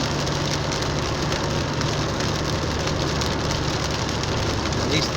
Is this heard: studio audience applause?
no